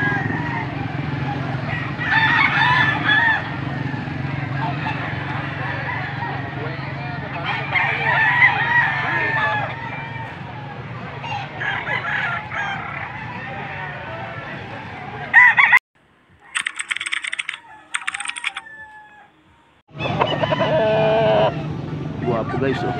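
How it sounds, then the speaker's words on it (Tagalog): Roosters crow and chickens cluck at a Sunday poultry market in Angeles, Pampanga, a loud, busy chorus of birds with people talking throughout and brief breaks where the sound drops away. "Nandito tayo ngayon sa bintahan ng mga manok."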